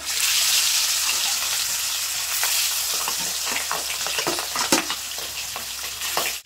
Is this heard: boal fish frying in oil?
yes